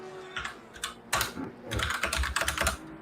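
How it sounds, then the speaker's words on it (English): Rapid typing on a computer keyboard during a livestream of a sim-racing session, with irregular bursts of clicky keystrokes that pause briefly and then resume in a dense flurry, heard close and fairly quiet. "a lot of research and typing here"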